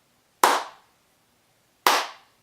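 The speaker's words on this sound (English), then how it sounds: "Slow clap it out, people." Two single loud claps spaced about a second and a half apart, each sharp and ringing briefly before dying away, forming a deliberate slow clap with nothing else heard.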